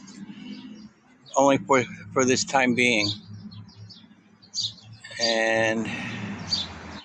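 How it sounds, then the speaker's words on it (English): Short bird chirps and calls sound faintly in the background of a park while a person talks in the foreground. "I hear birds."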